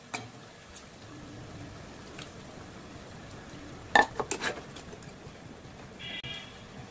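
Spiced chicken with gravy stirred in a pot for a home-style chicken chaap and biryani: soft scraping with a few quick metal clinks of a spoon against the pot, faint and close.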